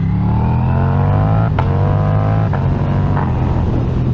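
A 2023 Ducati V4 Diavel motorcycle engine revving and pulling hard through the gears, a loud, close, steady drone that drops in pitch at each shift, with a few sharp exhaust pops.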